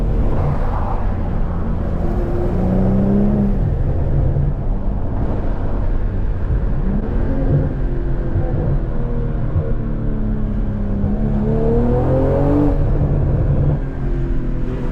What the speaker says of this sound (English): That turbo sounds so good.